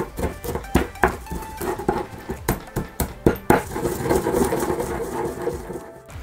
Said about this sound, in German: Und das Ganze einmal gut durchmörsen.